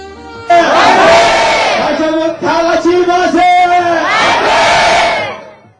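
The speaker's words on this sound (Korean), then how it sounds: "해맞이객들은 환호와 탄성으로 해를 맞이합니다." A large crowd of New Year's Day sunrise watchers on a cold, windy seashore cheers and shouts loudly and continuously, with the roar swelling and dipping for several seconds before fading out.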